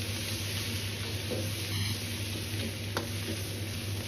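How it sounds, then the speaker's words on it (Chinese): Scallion, ginger and garlic hit hot oil, then cabbage goes in for a stir-fry. A steady, even sizzle hisses throughout with no breaks, under a faint low hum. "油熱後下入小料，蔥薑蒜先炒出香味，再倒入炒過的白菜"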